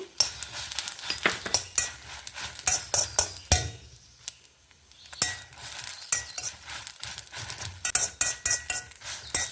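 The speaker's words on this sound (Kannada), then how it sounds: "ಮೆಣಸು ಹಾಕೊತಾ ಇದ್ದೆ ಫ್ರೆಂಡ್ಸ್ ಸಾಸಿವೆ ಹಾಕೊತಾ ಇದ್ದೆ" Chillies and mustard seeds fry in hot oil in a pan for a hog plum pickle, giving a dense run of crackling, spluttering pops with a short quieter gap midway. No one speaks.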